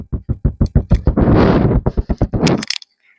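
A taut Aari embroidery frame tapped like a drum close to a microphone: a quick run of sharp, hollow knocks, then a brief buzzy roll and a few more taps before it stops.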